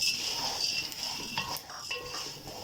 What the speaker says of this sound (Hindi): ये देखिए, अब ये मैं लौंग डालने लगी हूँ।